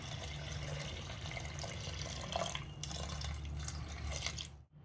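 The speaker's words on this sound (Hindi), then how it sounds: "अब इसमें पानी देंगे" Water is poured into a pot of mixed moong and chana lentils with cinnamon, cloves and black cardamom, a soft steady trickle and splash that cuts off abruptly at the end.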